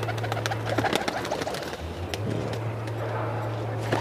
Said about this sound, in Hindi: ये देखो अब भी बैठ रहे सब कबूतर